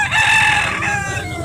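A derby-size fighting rooster, a grey hatch gamecock, crows loudly and close by in a single strained call, with faint clucking from other fowl in the background.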